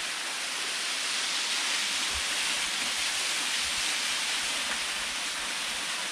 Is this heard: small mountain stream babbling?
yes